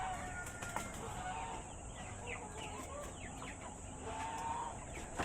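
Pet geese and ducks clucking and calling in a farmyard, with brief squawks scattered over a constant high insect-like drone and faint background noise.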